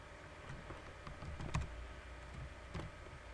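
Typing on a computer keyboard during an online account setup: soft, scattered key taps at close range over a steady background hum, with a slightly louder press midway.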